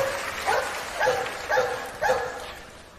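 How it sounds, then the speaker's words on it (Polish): A dog in a comedy radio sketch gives four short yappy barks evenly spaced about half a second apart, clear and fairly close against a quiet background. "Ukochany pies taty."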